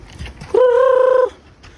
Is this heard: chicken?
yes